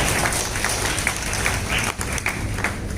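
A crowd at the opening ceremony of an Uttar Pradesh karate championship claps continuously, giving a dense, fairly loud wash of applause for about three seconds.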